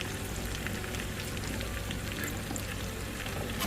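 Sliced onions fry in a hot pan, a steady, close crackling sizzle with a light scraping of stirring throughout, no voices over it.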